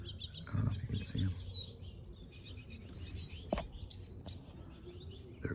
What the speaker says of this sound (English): There's those beautiful little finches.